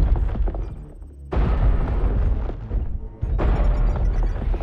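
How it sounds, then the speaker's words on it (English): Artillery strike explosions in a video game: heavy, loud booms and rumbling blasts in two bursts, separated by brief quiet gaps, with rolling low impacts and no talk. "Artillery strike online."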